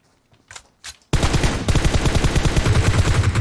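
Rapid automatic gunfire in the mobile battle royale game PUBG Mobile bursts in loud and close after two faint earlier shots, a steady rattling stream of rounds lasting over two seconds.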